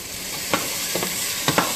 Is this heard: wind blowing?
no